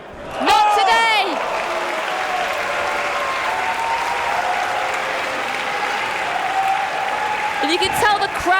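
Wrestling crowd at a women's match roaring into sustained applause after a finishing move, a dense wash of clapping and cheering lasting several seconds, with a commentator's voice speaking over the start and end.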